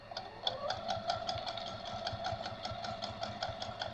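A sewing machine stitches two pieces of rag-quilt fabric together with a half-inch seam, a steady, close, rapid mechanical chatter with an even needle rhythm that runs throughout, alone with no talk.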